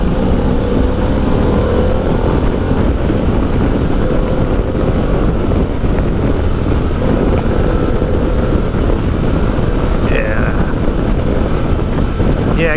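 A 2025 Harley-Davidson Pan America ST motorcycle engine revs under load while riding, a loud continuous roar mixed with heavy wind rush, with a rising rev sweep near the end.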